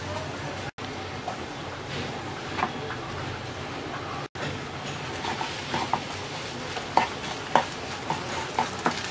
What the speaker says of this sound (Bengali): এবার আমরা শাকটা দিয়ে 2-3 মিনিটের মতো নাড়াচাড়া করে নামিয়ে নেব